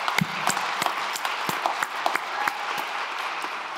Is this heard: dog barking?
no